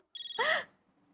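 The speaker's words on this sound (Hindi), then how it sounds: "मामा जी का फोन." A mobile phone ringtone chimes in a single short electronic burst, a bright warbling tone that rises and then quickly cuts off, heard clearly on its own in a quiet room.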